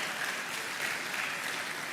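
Sustained audience clapping at a retail congress as panelists return to their seats, a thick, steady rattle of many hands at moderate, level volume.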